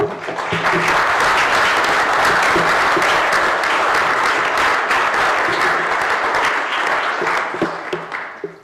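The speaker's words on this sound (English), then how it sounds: "if I could have a round of applause again for Hazel" A roomful of people at a Charter Trustees meeting in Bournemouth applauds Hazel, steady loud clapping that holds for several seconds and then thins out into a few last claps.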